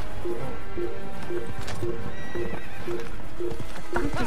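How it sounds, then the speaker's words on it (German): A horse in the Assassin's Creed video game trots with a steady, regular clip-clop of hooves, loud and close, with a whinny breaking in near the middle. "Verdammtes Pferd."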